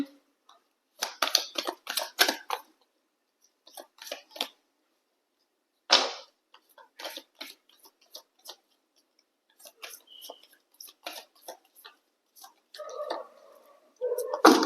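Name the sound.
shuffling tarot cards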